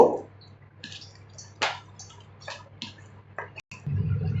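A yam mixture with gram flour, sugar, salt and peanut-chili paste is kneaded by hand in a bowl, giving a few soft, wet squishes and sticky clicks, close and quiet, spaced irregularly.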